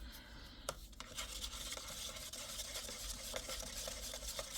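Water and DecorRom eco resin powder are stirred in a small cup, giving a quiet, continuous gritty scraping with occasional light taps against the sides.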